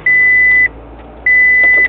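A car's seatbelt reminder chimes twice, two loud, even electronic tones each lasting about half a second, separated by a short gap inside a quiet cabin.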